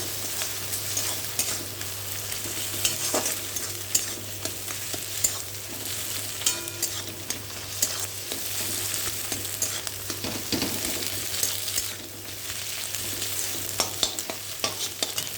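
Two eggs cracked into a pan among pasta are fried and scrambled, a steady close sizzle running unbroken with frequent scraping stirs of the spatula and no speech.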